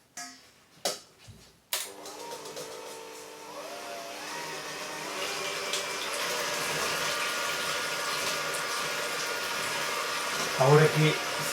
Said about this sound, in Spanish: lo que vamos a hacer ahora es batir las claras porque vamos a hacer un merengue